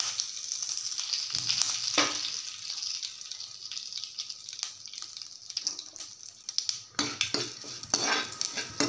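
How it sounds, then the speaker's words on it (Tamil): Dried chili, asafoetida and curry leaves fry in hot oil, giving a steady close sizzle with occasional stirring clinks of a utensil against the pan throughout. "நல்லா எல்லாமே பொரிஞ்சிருச்சு."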